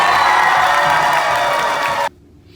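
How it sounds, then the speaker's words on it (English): A crowd aboard the Carnival Fantasy cruise ship claps and cheers for a little girl, a loud continuous roar that cuts off abruptly near the end, leaving near silence. "Give this little girl a round of applause."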